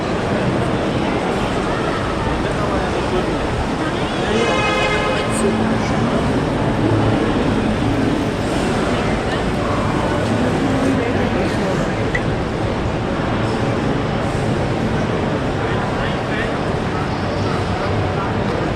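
Busy ambience inside Zurich Hauptbahnhof, the Swiss main railway station: a dense, steady wash of crowd murmur, footsteps and distant train noise, with a brief tonal chime or announcement around the middle and no clear close voice.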